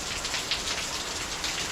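Heavy rain pours down in a dense, steady hiss of drops striking surfaces, loud and close with no voices.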